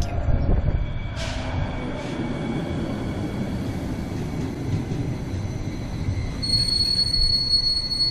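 An NJ Transit light rail train rolls through Jersey City with a continuous low rumble. Its wheels squeal in high, thin tones that flare briefly early on and return near the end.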